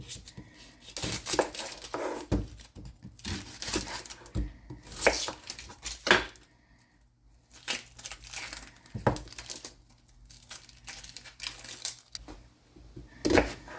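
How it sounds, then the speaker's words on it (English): A knife chopping celery stalks and a yellow onion on a cutting board for a slow cooker roast, giving irregular bursts of close, crisp chops and crinkly cuts separated by short pauses, with no talking. "I'm just going to cut the onion in 4s"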